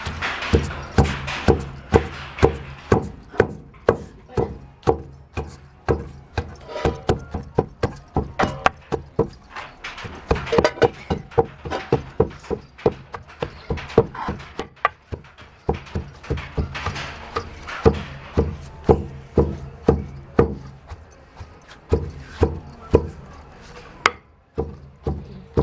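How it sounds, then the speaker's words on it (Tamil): Curry leaves pounded by hand in a village kitchen, a long run of dull, close thuds falling in a steady rhythm with short pauses between bursts of strikes. "கருவேப்பிலை பாருங்கள், இடிச்சுக்கணும்."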